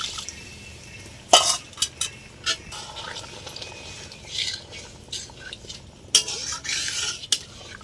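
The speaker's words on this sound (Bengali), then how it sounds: "চিংড়ি বাটা দিয়ে দিলাম, এটা ভালো করে নেড়ে নেব" A spoon scrapes and clinks against a pan while jackfruit curry with prawn paste is stirred, producing irregular bursts of sharp metallic scraping and knocks over a low simmering background.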